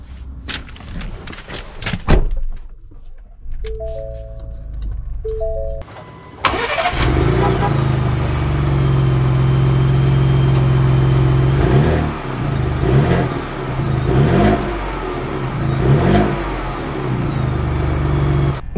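A Ford Bronco First Edition 4-door is heard from inside: a door thuds, chimes ring, and then the engine cranks and catches, settling into a loud idle. It then pulls away with rising revs and repeated shifts through the gears, with no talking.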